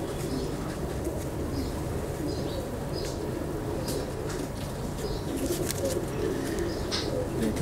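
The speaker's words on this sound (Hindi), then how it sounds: "उस्ताद अजीज़ के घर के कबूतर है माशाल्लाह" Breeder pigeons kept at a home loft coo softly in steady low murmurs, with a few brief wing flaps and faint chirps over a constant rustling background.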